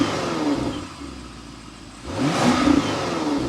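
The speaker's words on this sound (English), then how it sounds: "so you can hear that exhaust note" A BMW X6 M60i with its S68 engine revs up, the exhaust note rising and falling in a throaty swell, easing off briefly before climbing again, loud and close with no talk.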